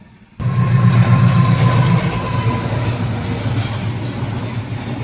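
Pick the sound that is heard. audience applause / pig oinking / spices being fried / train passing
train passing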